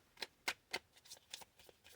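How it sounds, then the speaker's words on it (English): Tarot cards riffled and shuffled in a quiet room, a quick series of soft papery flutters and snaps, a few sharp ones followed by lighter, quieter riffles. "One more shuffle, and that's it."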